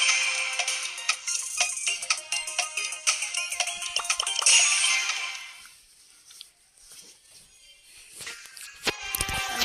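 A bright electronic phone ringtone plays a busy melodic pattern, loud and close, then fades into quieter clicks and shuffling.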